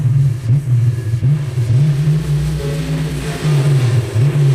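A big block car engine revs again and again with quick throttle response, a loud low rumble that rises and falls in repeated surges, close by with no talking.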